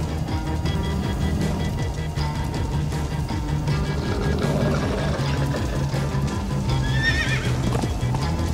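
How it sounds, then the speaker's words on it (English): Horse in the Minecraft: Story Mode video game neighing and galloping, rapid clip-clop hoofbeats under a steady game soundscape with a loud whinny near the end. "Slow down, horse!"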